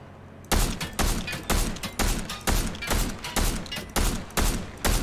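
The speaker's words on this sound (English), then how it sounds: "Okay, DMR, let's shoot this guy." Fortnite DMR rifle fire in a steady series of about ten loud, close semi-automatic shots evenly spaced about half a second apart, with no talking.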